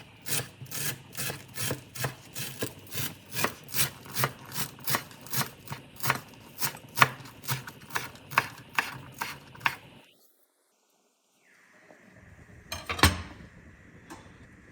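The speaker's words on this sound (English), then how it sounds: "So here I have a big bunch of cilantro, which I'm going to finely chop" A knife finely chopping a big bunch of washed cilantro on a board, close and rapid, about two crisp cuts per second for ten seconds, then a pause and a few scattered knocks.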